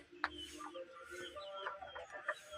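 A Kadaknath laying hen clucks softly in a few short, scattered calls, quiet and fairly close, with some faint background noise and no talking.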